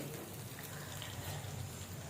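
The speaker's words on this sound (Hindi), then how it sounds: "तो अब इसमें हम पानी डालेंगे।" Water poured from a cup into a pan of cooking maize flour for makka khichu, a steady, moderately loud rushing gush that continues evenly for about two seconds, close by and without talk.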